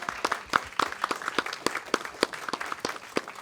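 Applause from a conference audience for the speakers after their session, a steady patter of many hands clapping at moderate distance, fairly soft.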